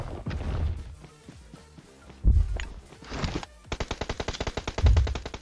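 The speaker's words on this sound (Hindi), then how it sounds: "अब मैं इस बंदे पे फायरिंग करने की सोचता हूँ" Video game gunfire in a King Kong themed shooter: scattered single shots, then a rapid burst of automatic fire with a couple of heavy thumps, loud and close, with no talking.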